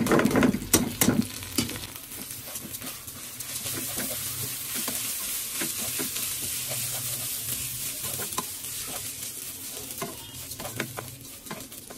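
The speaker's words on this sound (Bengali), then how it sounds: "তো পোলাও চালটা একটু ভালো করে ভাজা লাগে।" Polao rice fries in a pan, giving a continuous soft sizzle with repeated scraping and stirring clatters that are loudest at the start, heard close and steady throughout with no speech.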